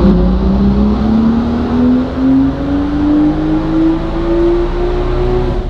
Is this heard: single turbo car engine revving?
yes